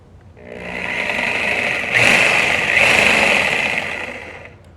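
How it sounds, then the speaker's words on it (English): A power saw cuts into a board beneath a house gutter, producing a loud, steady high-pitched whine that holds for several seconds, rising slightly as the blade bites and then winding down. "that's as far down as the saw will go onto that board"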